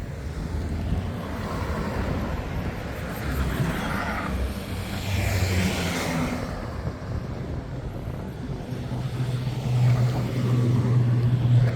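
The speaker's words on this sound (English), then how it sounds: "this is where the cars come up from the airport here" Cars driving up from the airport exit by a roundabout in Barbados, a broad rushing swell of passing traffic mixed with heavy wind buffeting the microphone outdoors.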